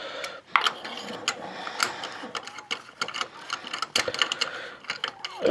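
A ratchet clicks in quick, uneven bursts while loosening a spark plug on a Toyota 4Runner 3.4 engine with a misfire, close up with metallic ticking and no talk.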